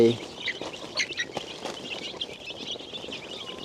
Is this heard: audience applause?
no